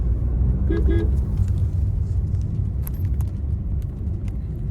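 A low, steady engine hum and road rumble from inside a moving car, with a brief short toot of a horn early on and faint ticks.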